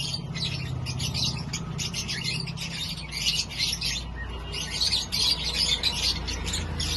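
Busy chirping and calling of many pigeons at a bird market in Malda, dense and continuous, with a low crowd-like rumble underneath and no clear speech.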